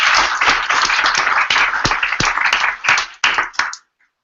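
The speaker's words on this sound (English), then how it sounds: "I would request you all for a big round of applause to my team over there, Taimur, Rhea, and everyone there." An audience at a 2015 Pakathon event claps together in a dense burst of applause that holds steady, then thins to scattered claps and stops, with no talking.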